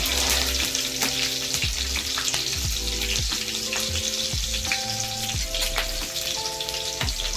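Chopped green chillies fry in hot oil with cumin and mustard seeds for vegetable upma, a steady close crackling sizzle broken by repeated scraping stirs and clinks of a spoon against the pan.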